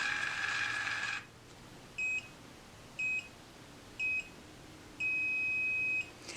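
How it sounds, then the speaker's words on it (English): An automatic cordless hair curler beeps in short, evenly spaced electronic tones about a second apart, then holds one longer beep, faint and close over a soft background hiss. "It does beep the entire time"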